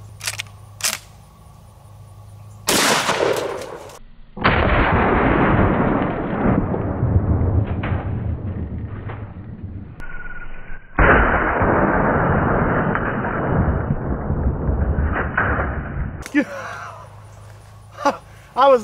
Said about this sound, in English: I was not expecting that big of an explosion